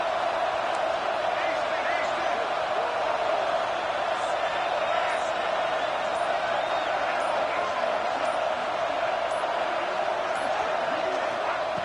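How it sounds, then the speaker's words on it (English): Football stadium crowd roars in a steady, dense wall of noise throughout a college game between Carolina and Colorado, with a commentator talking over it. "listen to this crowd noise. This stadium is vibrating."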